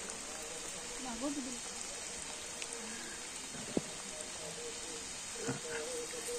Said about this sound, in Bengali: বৃষ্টি পড়তেছে, এমন সময় আমরা আসছি